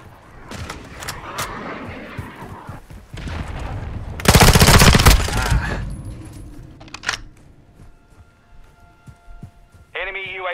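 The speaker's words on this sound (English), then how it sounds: "It's a submachine gun" Submachine gun fire in Call of Duty Modern Warfare II multiplayer, free-for-all: rapid bursts of close automatic shots, with one long loud burst in the middle, over busy game sounds and a voice.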